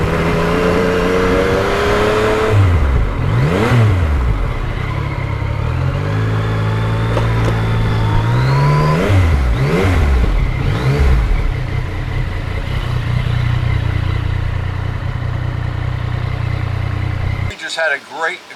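A Yamaha MT-09 motorcycle is ridden along, its engine note rising and falling through repeated gear changes and throttle sweeps, loud and close under steady wind rush, cutting off near the end.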